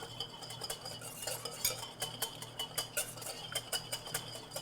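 A whisk beats olive oil into a salad dressing in a bowl, a quick rhythmic run of light metallic clicks and taps, fairly quiet and close, over a faint low hum.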